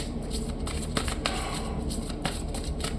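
Tarot cards being shuffled close by, a continuous papery riffling with a few sharper snaps, steady and fairly soft, with no speech over it.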